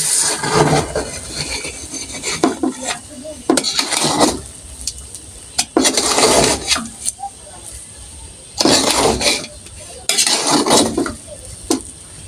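Biryani is stirred in a cooking pot in bursts of loud scraping and metallic clatter, with quieter pauses in between, close and repeated through the stretch.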